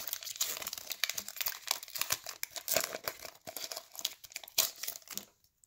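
A Pokemon TCG booster pack from a Team Up Elite Trainer Box being torn open, with close, loud foil crinkling and ripping in rapid bursts for several seconds before stopping abruptly.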